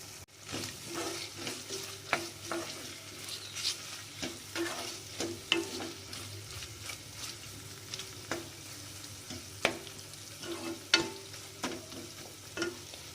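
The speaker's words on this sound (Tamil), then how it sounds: "இந்த கொத்தமல்லி தழை போட்ட பிறகு ஒரு 2 நிமிஷம் வேகட்டும்" Coriander leaves fry with onion and tomato in a pan for brinji rice, a soft steady sizzle broken by repeated scrapes and stirs of the spoon, faint and close, with no one talking.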